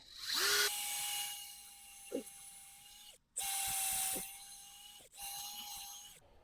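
A power drill whines in three steady bursts with short pauses between, a high sustained tone boring into a living maple tree trunk, close by with no talking.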